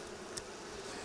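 Honey bees buzz around a five-frame medium hive, a steady close hum filling the air with one brief sharper buzz as a bee passes near.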